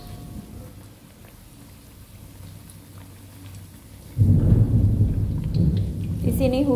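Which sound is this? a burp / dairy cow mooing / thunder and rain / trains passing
thunder and rain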